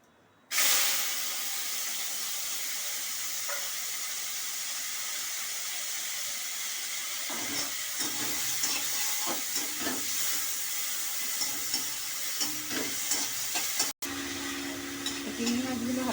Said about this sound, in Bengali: এই তেলের মধ্যে আমি চিংড়ি মাছ কটা ভেজে নেব।